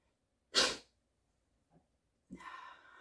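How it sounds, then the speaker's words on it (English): A single sharp, close sneeze bursts out loud and then cuts off, followed by a faint catch of breath and a rougher exhale with a quiet breathy trail. "oh, I have to sneeze."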